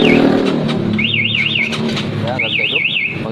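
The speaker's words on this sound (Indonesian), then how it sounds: "alarm tetap akan berbunyi keras" A warbling electronic motorcycle security alarm on a Honda CB150 rising and falling in repeated bursts, loud and close over an engine-like rumble, with a voice briefly underneath.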